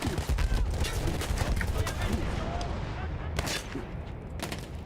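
Dense gunfire and explosions in the Battlefield 1 video game, with rapid overlapping shots and booms filling the whole stretch at steady loudness, while a voice talks over the combat.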